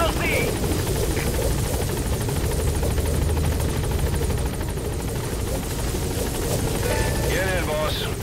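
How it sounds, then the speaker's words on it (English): Support helicopter in the Metal Gear Solid V video game arriving at a landing zone, a loud steady rotor roar and engine whine filling the whole stretch, with a voice speaking over it. "Support helicopter has arrived."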